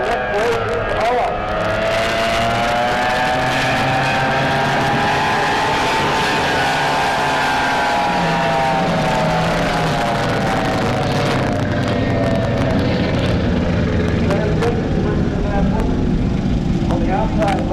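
Racing boat engines roar across Lake Tholocco during a boat race at about 82 miles an hour, a loud sustained drone with shifting pitch that swells and fades as the boats pass, with an announcer talking over it.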